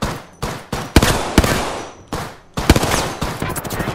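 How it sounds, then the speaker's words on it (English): Gunfire in a video game: several sharp, loud shots and short bursts crack close by, each trailing off into echoing decay, with a denser volley near the end. "Getting shot at."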